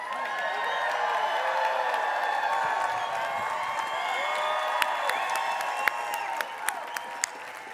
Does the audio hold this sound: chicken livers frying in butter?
no